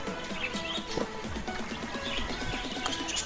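Pet finches in an aviary chirp in quick, repeated bursts, busy and fairly close, with a soft cooing from pigeons mixed in and no talking.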